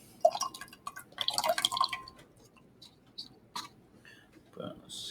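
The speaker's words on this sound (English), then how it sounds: "Let's dump out the water." Water dumped out of a cup during an egg lab, splashing and dripping in short bursts with clinking glass, fairly close and moderately loud, followed by quieter scattered drips.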